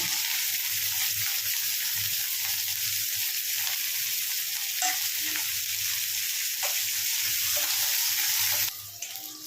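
Chopped onions and green chili pieces frying in a pan for an okra curry, a steady loud sizzle with occasional stirring scrapes, cutting off briefly near the end.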